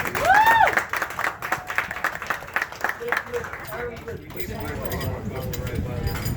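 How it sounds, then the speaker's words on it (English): Crowd applause for the Australian team at the 2017 Big Hammer Challenge ceremony in Miami: scattered clapping with cheering voices, fairly loud at first, with a high whistle-like sweep early on, then settling into steady crowd noise. "Big round of applause for Australia."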